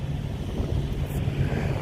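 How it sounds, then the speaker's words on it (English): Gusty wind buffets outside a parked truck at a Petro truck stop in Fargo, North Dakota, a steady low rumble of moving air with no one talking. "So yeah, the wind's blowing."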